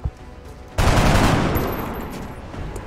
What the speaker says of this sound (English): because we're gonna go shoot